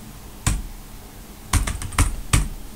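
A few separate keystrokes on a computer keyboard as a password is entered in a Linux terminal: one tap, a pause, then a quick cluster of four or five close, fairly loud clicks.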